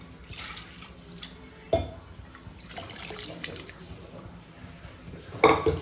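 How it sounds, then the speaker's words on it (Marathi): Boiled mutton stock is poured into a cooking pot for a home-style mutton curry, with soft liquid trickles, a sharper splash early on and a louder splashing pour near the end. "नंतर हे उकडलेलं पाणी आपण यात टाकून देतो"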